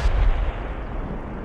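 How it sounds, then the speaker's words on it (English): Heavy mortar fire in the military shooter game Project Reality: a loud, booming low blast at the start that rolls off into a long, dull rumbling tail, with no voices. "Fuck it, they're mortaring us."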